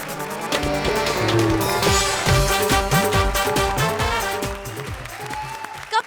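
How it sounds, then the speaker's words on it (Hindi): Audience applause on a Hindi comedy show, clapping under loud music and stage sound effects, steady and full for most of the stretch before fading toward the end. "जोरदार तालियां हो जाए भारती और सिद्धार्थ के लिए।"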